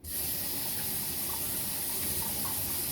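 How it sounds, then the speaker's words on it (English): Eggs being washed in a sink of soapy water with dish detergent give a steady faint rush of running water, constant throughout with no talking. "do other people use dish detergent to wash their eggs with as well?"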